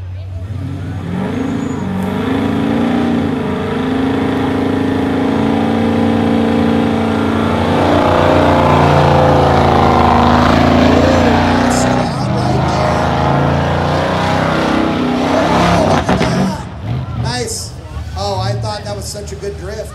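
A drag race car launches hard down the strip at Beech Bend Raceway during a Mopar event, its engine roaring loud and sustained as it accelerates, then cutting off near the end while someone talks excitedly over it.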